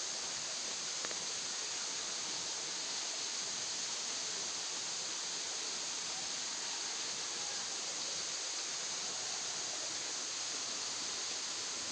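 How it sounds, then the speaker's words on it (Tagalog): Waterfall pouring steadily, a constant broad rushing roar, faint and unbroken throughout with no voices. "Oh, falls."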